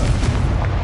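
A Confringo fire spell explodes in Hogwarts Legacy. A short, heavy, booming blast fills the moment, loud and close, with a rumbling low end and no voice over it.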